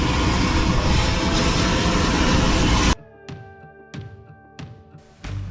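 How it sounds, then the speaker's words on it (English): Cessna Caravan turboprop aircraft engine, loud and steady at first, then cutting to quieter intermittent bursts with tonal whine during startup on an airport ramp. "it was time to start our engine and get on our way up to the Grand Canyon"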